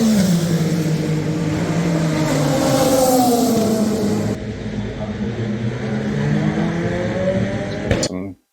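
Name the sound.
race cars at Le Mans night racing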